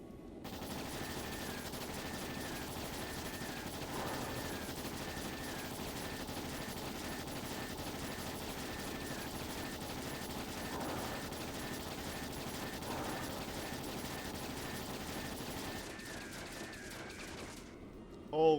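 Ships in Trails in the Sky SC fire their guns in a steady, dense barrage of rapid mechanical shots under game music, moderately loud and continuous, ending with a sharp louder burst.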